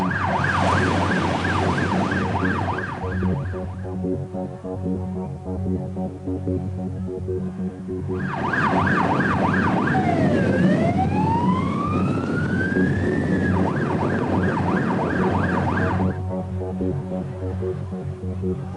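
A police car siren wails loudly and continuously as the car races to an incident on a high street, cycling through rising-and-falling and faster yelp patterns over the steady hum of its engine.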